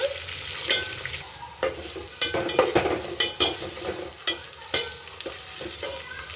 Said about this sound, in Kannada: ಹಸಿಮೆಣಸಿನ್ಕಾಯಿ, ಈರುಳ್ಳಿ ಹಾಕ್ಕೊಳ್ಳಿ, ಫ್ರೈ ಆಗಲಿ.